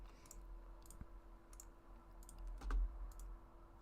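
Soft clicks from a computer mouse come in small spaced clusters, faint and close over a low steady hum.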